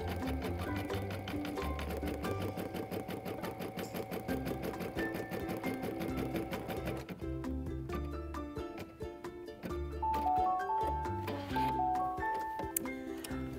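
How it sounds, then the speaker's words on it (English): An embroidery machine stitches a Sunbonnet Sue design with a fast, steady mechanical chatter of needle strokes, close and continuous, the rhythm changing partway through as the stitching pattern shifts. "while my machine is doing the work, I can get all of my other projects ready"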